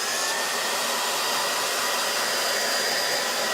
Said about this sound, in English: I've got a blow dryer right here, and it's just gonna take a couple seconds.